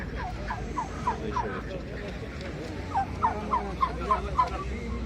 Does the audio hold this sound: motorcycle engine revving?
no